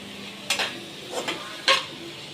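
Tomato, onion, ginger garlic paste, green chilli, cinnamon, cloves and fennel fry in a pan, a soft background sizzle broken by three scraping stirs, close and alone.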